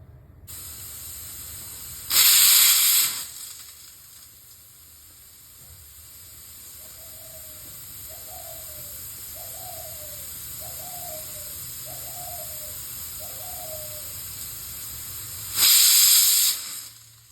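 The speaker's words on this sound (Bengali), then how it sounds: "এখন আমরা প্রেসারের ঢাকনা লাগিয়ে 3টা শীষ পর্যন্ত অপেক্ষা করব" A pressure cooker on the stove while Assamese khar cooks, with two loud bursts of whistling steam well apart and a steady faint hiss between them. A short run of soft chirping sounds comes in the quiet stretch.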